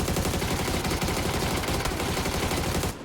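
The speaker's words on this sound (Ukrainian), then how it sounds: "Тут ЧП справа по мені стріляли." Dense, rapid gunfire bursts, loud and continuous like automatic weapons in a video game, cutting off abruptly at the end.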